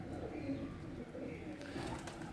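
A domestic pigeon coos softly from nearby, low murmuring calls under a steady background hum without talk.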